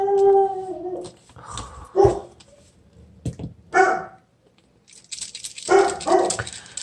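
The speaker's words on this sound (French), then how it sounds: "c'est même pas Chuck, ça, qui jappe de même, c'est Pezzy." A dog barks and howls loudly in bursts, with yelping calls, whimpers and pauses between them, close and alone without talk.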